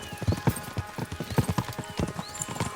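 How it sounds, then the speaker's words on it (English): Rapid galloping hoofbeats of horses in Kingdom Come: Deliverance 2, a close, fast irregular drumming of many hooves with a snort or whinny mixed in. "We should spur the horses on."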